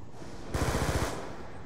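Uzi submachine gun firing in a Call of Duty zombies game, a short rapid burst of about eight close, loud shots lasting roughly half a second.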